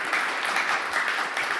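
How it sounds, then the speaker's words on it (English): Audience applause at a live design networking event, a steady wash of many hands clapping that fills the whole moment at moderate level with no voices over it. "Stephanie, let's give her an applause, of course."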